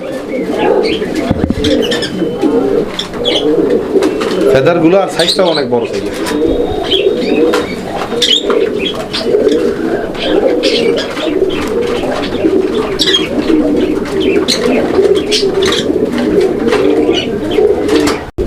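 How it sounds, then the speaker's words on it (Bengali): Large Gopalganj pigeons cooing in their cage, a continuous throaty, rolling coo repeated close by, with someone talking over the calls throughout. "ওদের খাঁচায় দেওয়ার পরে কবুতরটার ডাকটা আমরা দেখাই দিলাম আপনাদেরকে কী কী পরিমাণ ডাকে দেখেন আপনারা"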